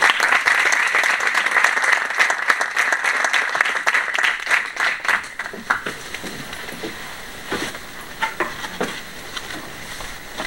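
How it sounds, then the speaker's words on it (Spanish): Audience applause at a foreign-language learning conference, dense clapping at first that thins out into scattered individual claps as it fades. "Por eso pido un aplauso"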